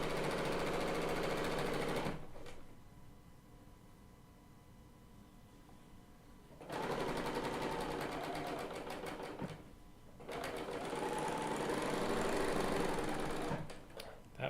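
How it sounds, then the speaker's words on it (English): A Bernina L890 serger attaches binding to a quilt in loud, fast, continuous runs, stopping twice for quieter pauses with a lower hum before stitching resumes. "now I'm attaching the binding with my serger"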